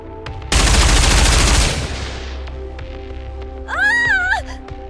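Burst of rapid automatic gunfire in the NIKKE: Goddess of Victory game, loud and dense for about a second before cutting off, followed by a short electronic warbling tone.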